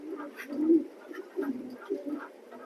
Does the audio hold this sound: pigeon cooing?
yes